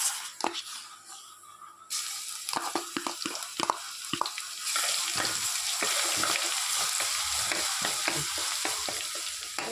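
Curry leaves with crushed ginger and garlic frying in a pan, with scraping spoon strokes and clatter at first, then a loud, continuous sizzle swelling as the pan heats.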